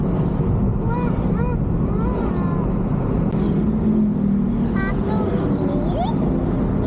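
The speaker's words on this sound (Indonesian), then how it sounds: "Pagi ini banyak yang naik motor ini kelihatannya." Motorbikes ride along a road on a morning in Bogor, giving a steady close engine rumble with people talking over the traffic.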